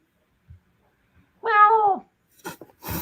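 A single clear cat meow, drawn out and slightly descending, followed by a couple of brief soft noises and rustles.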